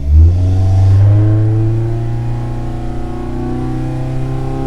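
Mini engine with an R17 cam revving hard on a dyno, a loud steady roar whose pitch climbs and holds under load, close and continuous with no talk.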